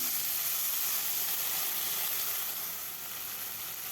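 Marinated fish hitting hot mustard oil in a pan, giving a loud, dense, close sizzle that hisses steadily and eases off slightly toward the end, with no voices.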